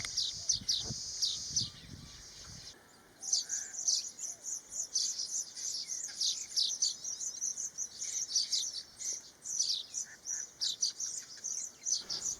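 A streaked weaver calls repeatedly in bursts of bright, high chirps and chattering notes over a soft insect hum, fairly close, with a brief rustle at the start.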